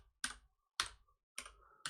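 Four sharp, separate key presses on a computer keyboard, close and fairly quiet, spaced at an uneven rhythm with silence between them.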